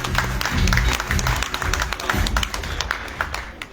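Crowd at an Oppo smartphone launch event in Casablanca applauds, loud, dense clapping from many hands filling the room with sharp close claps, continuing steadily and easing slightly toward the end.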